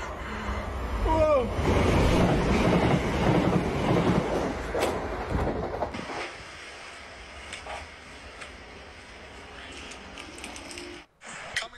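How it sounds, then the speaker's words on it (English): A Class 377 train passes on the line toward Southampton Central with a loud, broad rumble for about six seconds, then drops to a quieter fading hiss before a brief gap and a final bump. "Coming up now is a class 377 from Littlehampton to Southampton Central."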